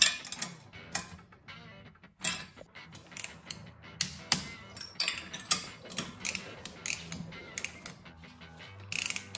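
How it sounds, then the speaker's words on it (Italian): A torque wrench clicks and ratchets while tightening cylinder bolts on an engine's top end, a rapid run of sharp mechanical clicks close by, irregular and repeated throughout. "poi andremo a dare un colpo, anche qui non è indispensabile, con la dinamometrica"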